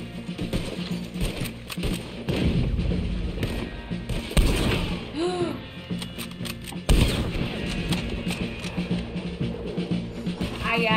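Cannon fire and scattered gunshots ring out during a hillside battle in Red Dead Redemption 2, with repeated loud booms and crackling shots throughout and voices talking over the fighting.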